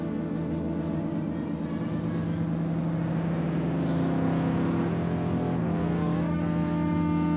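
Yamaha MODX synthesizer playing a sustained tone with extended LFO oscillator drift, the modulation speed shifted by the mod wheel; a steady, loud drone with wavering pitches that climb and bend toward the end, no voices.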